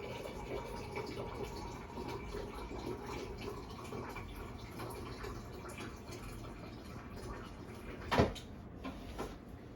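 About four cups of water pour into a pot of beets in a home kitchen as a steady, close splashing rush, ending with one sharp knock near the end.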